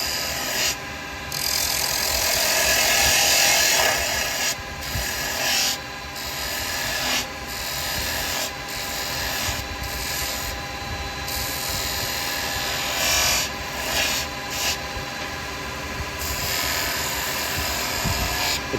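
A carbide chisel slices into wood spinning on a lathe, a continuous rasping, scraping cut over the motor's steady hum, swelling and easing as the tool rolls in.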